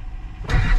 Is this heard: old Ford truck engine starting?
yes